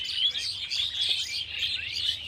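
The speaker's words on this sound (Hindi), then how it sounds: "पक्षियों की आवाज़ बड़ी सुंदर लग रही है" Birds chirping and twittering continuously around a rooftop, a steady overlapping chorus of high, bright calls at moderate distance, with no talking.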